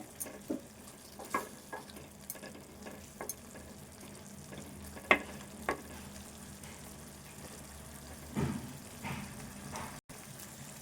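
Tomato paste fries in a pan with a quiet, steady low sizzle, broken by scattered soft stirring scrapes and a couple of louder clinks near the end.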